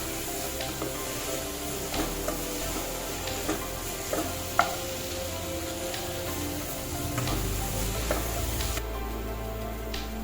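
Tomato sautéing with spices in a pan for Kerala-style spicy prawn roast, a soft continuous sizzle broken by periodic clicking stirs of a spoon against the pan.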